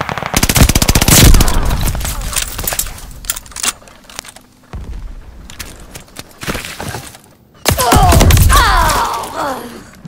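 A Cooper Carbine in a video game fires in loud bursts of rapid automatic gunfire with sharp cracks and shattering impacts, separated by short quieter gaps.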